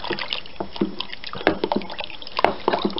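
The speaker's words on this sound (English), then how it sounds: "Get your wooden spoon, give it a good stir about, just to get things kind of happening." A wooden spoon stirs peach wine must in a fermenting vessel, giving close, irregular sloshing and dripping liquid sounds with soft knocks, and no speech.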